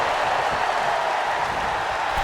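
An arena wrestling crowd roars in a sustained wash of cheering and applause during a Last Man Standing championship match between the Undertaker and Batista, broad and steady with no clear breaks.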